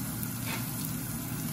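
Minced garlic frying in the rendered fat of shrimp, cooked for shrimp provençale, gives a steady, close sizzle with a soft, even crackle throughout.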